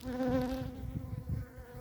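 A close, dense buzz of many honeybees in a hive in January, a steady droning hum with shifting pitch and slight swells in loudness.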